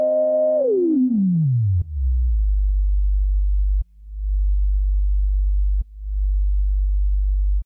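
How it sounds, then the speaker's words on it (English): A pure electronic tone from a synth filter self-oscillating in Reason sweeps downward into a deep, steady sine sub-bass hum that holds, briefly restarting a few times with soft clicks. "This filter self-oscillation produces a sine wave with the frequency at the filter cutoff."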